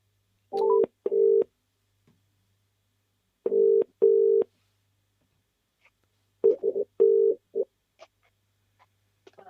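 A landline telephone produces short steady tone bursts in separated groups, quiet and close, with no voices.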